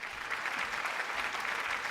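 A studio audience on a Malayalam TV game show claps steadily, a faint, even patter of applause lasting about two seconds.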